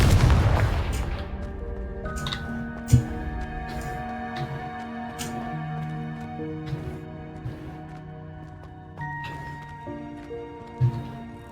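A fiery Confringo spell blast in Hogwarts Legacy opens with a loud boom, followed by scattered sharp pops and impacts over sustained musical game tones.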